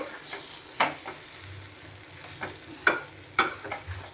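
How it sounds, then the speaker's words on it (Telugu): Maggi noodles mixed with egg stirred in a pan, with a soft sizzle under scattered scraping strokes and a few sharper taps of the spatula, close and fairly quiet with no talking. "మొత్తం మ్యాగీ అంతా ఇందులో ఎగ్తో కలవాలి."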